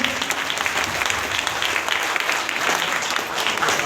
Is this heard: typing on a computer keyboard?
no